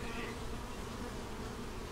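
A thick, steady drone of forager honey bees crowding around a deep eight-frame hive, close and unbroken from start to finish, without talk.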